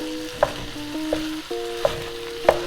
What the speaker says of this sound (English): I'm going to put it in and mix it and break it up for about 5 minutes until it starts changing color.